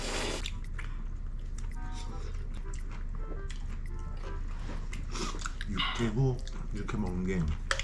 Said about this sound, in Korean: 빨리 라면 먹어봐. 진짜 맛있어.